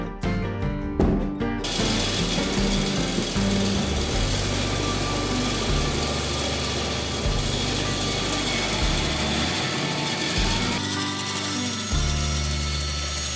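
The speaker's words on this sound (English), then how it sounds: "Now I take it into my workshop where I'll use the bandsaw to cut" A workshop bandsaw cuts through timber for a garden bed, a loud, continuous whirring rasp that shifts in tone as the blade works through the board, with no voices.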